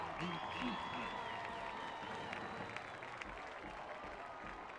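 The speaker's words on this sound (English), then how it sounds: "Listen to this crowd." Football fans cheer in a sustained, dense roar at a high school football game between the Conway Wampus Cats and El Dorado, with a commentator talking over the crowd throughout.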